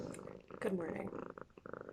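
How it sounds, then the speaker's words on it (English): Two cats purring, one close and one farther away, a low rumbling purr running under a person speaking a brief greeting. "The sounds you hear are two cats purring"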